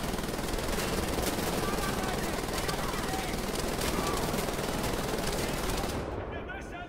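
Dense, sustained automatic gunfire from a first-person shooter, Wolfenstein: The New Order, rattling continuously at close range for several seconds before easing off, with a voice talking over it.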